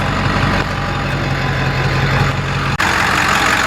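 A truck engine runs steadily at a low, rumbling idle, heard close and continuous, with one brief dropout near the end and no voices.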